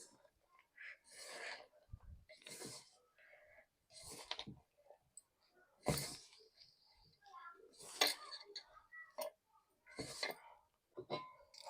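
Egg pakodi batter with salt and a little soda being mixed in a bowl, giving repeated clinks and scrapes in short bursts spread across several seconds, close and fairly clear.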